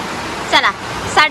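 Steady broadband rain hiss fills the whole stretch outdoors, with brief bursts of a voice speaking over it.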